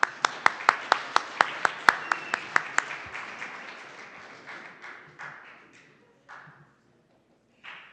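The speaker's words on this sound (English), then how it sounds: "Give Abby a round of applause." Scattered clapping in a small group at a generative AI workshop: a handful of sharp, evenly spaced claps up front, then softer, thinning claps that trail off into a few last isolated ones.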